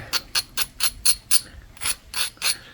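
A turkey tail pressure-flaked stone slab preform is lightly brushed, giving eight or nine evenly spaced, crisp scratchy strokes in close succession, close and fairly quiet with no voices.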